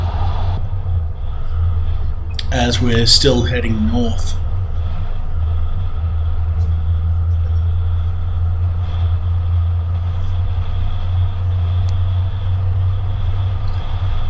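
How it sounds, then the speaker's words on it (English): A 76 Series four-wheel drive drives along a soft sandy desert track, its engine a steady low drone throughout, with someone briefly talking early on over the rumble. "You can see the car sort of almost following those ruts"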